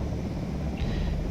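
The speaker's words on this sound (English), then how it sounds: "That's the helicopter." Brief, continuous low droning of a helicopter flying overhead in Project Zomboid, with no talk over it.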